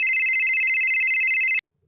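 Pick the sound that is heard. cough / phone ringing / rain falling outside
phone ringing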